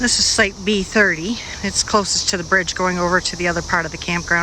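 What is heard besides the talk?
periodical cicadas chorus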